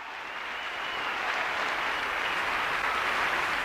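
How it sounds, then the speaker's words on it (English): Steady applause from a sizable audience, dense and continuous clapping that swells slightly and holds for several seconds without voices. "including applause when he does something spectacular"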